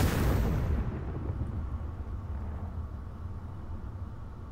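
A single heavy weapon shot fired at an armor block in the Space Engineers video game, a loud low boom that opens the clip and fades into a long rumbling tail.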